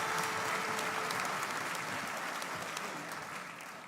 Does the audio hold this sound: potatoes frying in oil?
no